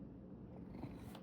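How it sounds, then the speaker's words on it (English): A cat purrs softly and close by, a low continuous rumble with a steady pulse over a short stretch. "Can you purr? Can you purr for them?"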